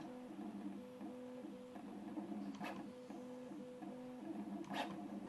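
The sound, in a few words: Prusa MK4 3D printer motion systems moving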